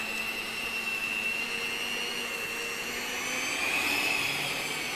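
An electric hand mixer whirring steadily while it beats donut dough with butter, a constant high-pitched motor whine with a slight rise in pitch near the end, close and moderately loud, no talking.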